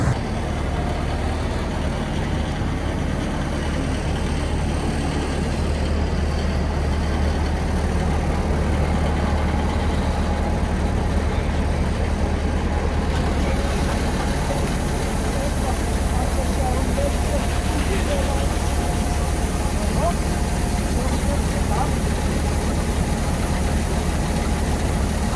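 A Fortschritt E514 combine harvester's engine runs steadily in a wheat field during harvest, a continuous low heavy drone with constant loudness throughout, and no talk over it.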